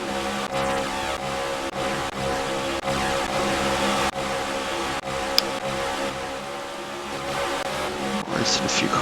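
NASCAR stock cars racing in the iRacing game at the Coke 600, a steady loud engine drone with other cars close around, heard under ongoing commentary.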